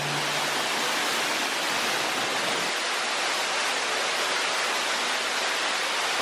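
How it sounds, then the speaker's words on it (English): Steady, loud broadband rush of falling water, continuous and close, like standing right beside a waterfall inside the Dan Yr Ogof showcaves in Wales, with no voices. "we're coming through the waterfall"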